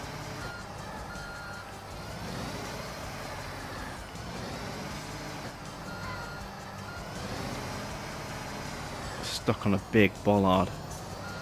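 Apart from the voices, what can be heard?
truck engine and reversing beeps in Construction Simulator 2 video game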